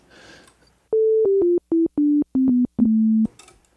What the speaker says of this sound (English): No change, still just a sine wave